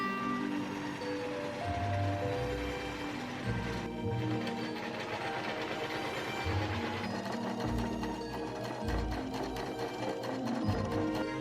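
A home sewing machine stitches a long, voluminous skirt for a Persephone-inspired dress. It runs in steady continuous bursts, close and fairly loud, with brief pauses between seams and no talk.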